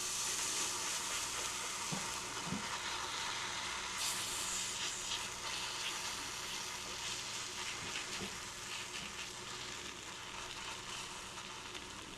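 A tortilla sizzles on a hot pan with a soft, continuous hiss, fairly quiet, with a couple of faint knocks.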